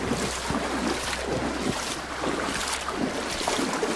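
Blue River flowing along a river walk in Cooildharry, Isle of Man, with a steady, broad rush of water mixed with wind noise on the microphone, continuous and fairly loud outdoors.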